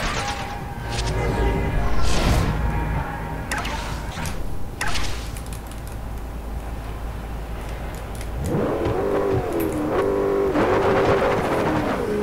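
Bugatti in Forza Horizon roaring through a race, engine revving and shifting with sharp whooshes and crash-like hits, loud and close, then a rising pitched drone near the end.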